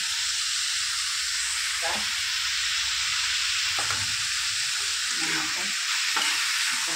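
Momo filling with onion and soy sauce stirred in a hot pan: a dense, loud hiss of frying throughout, with occasional soft scrapes and thuds of the spoon mixing, close by.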